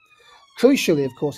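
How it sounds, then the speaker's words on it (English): An ambulance siren passes by outside a house, heard as faint steady tones in the distance before a person starts talking over it. "that was just the ambulance going past my house"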